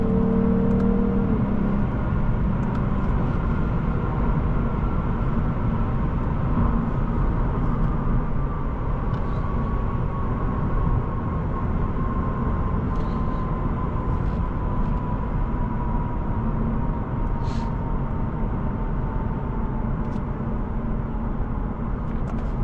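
A 2025 Lexus IS 350 F Sport accelerates smoothly on the road, a steady loud engine and road drone with a slowly rising tone throughout, heard from inside the cabin with no talking.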